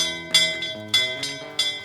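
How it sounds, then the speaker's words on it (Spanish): A bell rings in three or four bright struck tones in quick succession, each ringing out and decaying before the next, loud and close with no talking. "Suena la campana"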